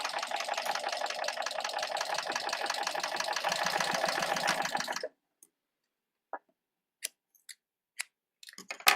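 A serger sewing machine runs fast while gathering fabric, giving a dense, steady mechanical chatter for about five seconds before stopping abruptly, followed by a few faint clicks and handling sounds.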